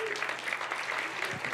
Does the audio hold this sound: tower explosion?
no